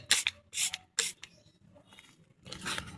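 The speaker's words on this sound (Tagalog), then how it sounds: "I-sprayhan po natin ng pampatay ng uod" Short bursts of pesticide spray against papaya plant worms hiss from a close hand sprayer, with several quick pumps early and one longer spray at the end, no voices.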